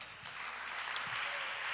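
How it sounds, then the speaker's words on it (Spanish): An audience at a live teen beauty pageant in El Salvador gives a brief burst of steady, faint-sounding applause. "Un aplauso, por favor."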